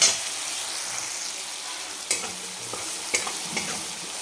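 Red chilli powder frying in oil for a chana dal and spring onion dish, a steady hiss and sizzle with a few light stirring scrapes, close and alone with no talking.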